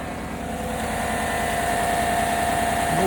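A 2018 Chevy Silverado 1500 idling steadily after a thermostat replacement, a continuous low engine hum with faint vibration that grows slightly louder over a few seconds, close by, with no talking.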